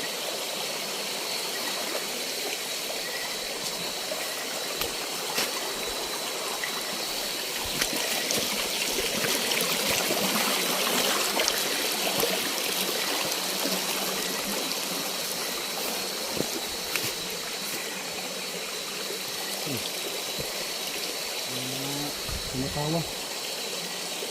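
River water streams and trickles steadily at close range, a constant broadband rush that holds through the whole stretch, with a few brief sounds near the end.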